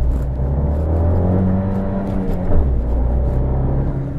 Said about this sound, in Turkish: 2 silindirli olduğu için de sesi aynı motosikletler gibi bak.